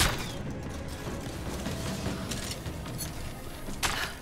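Rapid bursts of gunfire in Rise of the Tomb Raider crackle over a dense, noisy background of explosions and action, with a sharper volley near the end.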